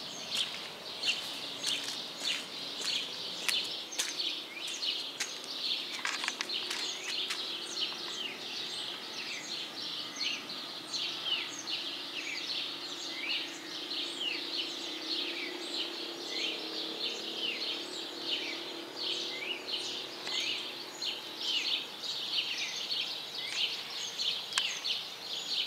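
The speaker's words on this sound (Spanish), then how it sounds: "la plaza donde viven varias especies de aves" Several bird species call in a tree-lined town plaza in Progreso. High chirps and tweets repeat densely and continuously over a quiet background, at moderate distance, with no talk.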